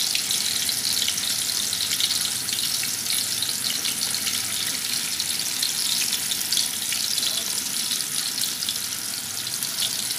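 Steady, dense sizzling and crackling of tofu skin frying in hot oil, continuous and close up with no voices.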